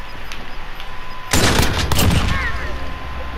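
A burst of rapid gunfire in the video game Call of Duty Modern Warfare, loud and close, erupting suddenly after quiet ambient game noise and trailing off over a couple of seconds.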